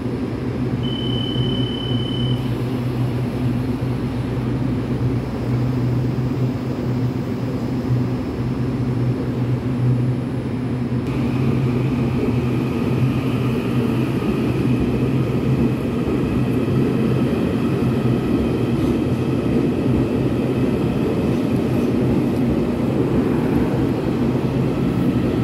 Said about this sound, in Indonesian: Kereta lambat mau jalan teman-teman.